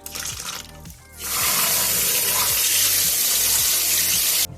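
Cold tap water pours steadily over drained glass noodles in a kitchen sink. A quieter splash comes first, then a loud, continuous gush that runs unbroken to the end.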